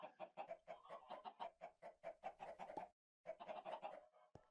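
Chickens cluck in Minecraft StoneBlock 3, a rapid series of short, close, moderately loud clucks that pause briefly, resume, and end on a sharp click.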